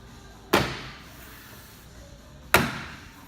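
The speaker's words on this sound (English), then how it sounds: "use a little bit of force and pop the top door trim back" Two sharp, loud pops about two seconds apart as the top door trim on a Holden VF GTS-R is forced off its metal clips. Each crack decays quickly back to quiet.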